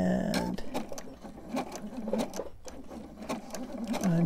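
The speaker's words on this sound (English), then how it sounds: "So as you're zigzagging, you want to go between both of those pieces because you're sewing them together." A sewing machine zigzag-stitches scrap-fabric-wrapped rope into a trivet, a continuous rhythmic chattering hum with brief slowdowns and restarts, close and moderately loud throughout.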